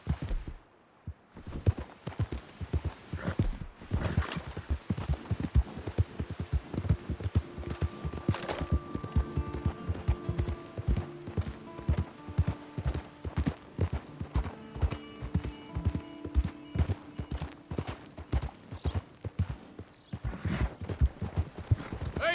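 A horse gallops in Red Dead Redemption 2, its hoofbeats a fast, steady clip-clop that runs throughout, close and fairly loud, with occasional tonal sounds in the background.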